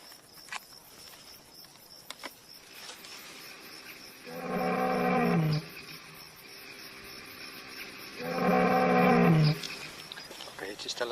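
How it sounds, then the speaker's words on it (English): Two long, deep lion roars played over a loudspeaker in the desert, each lasting over a second and separated by a few seconds, set against steady cricket chirping at night. "By broadcasting a lion roar,"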